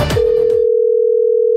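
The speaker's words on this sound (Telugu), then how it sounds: "నేను ఆడికి ఫోన్ చేస్తాను, ఒక నిమిషం ఉండు." A telephone dial tone sounds during an outgoing call, one loud, steady, unbroken hum that starts just after a brief handling noise and runs alone until the end.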